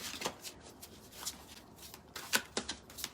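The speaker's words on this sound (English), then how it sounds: "I'm just going to shuffle these cards real good" A deck of tarot cards being shuffled by hand, several quick riffling bursts of papery flutter separated by short pauses, close and fairly quiet.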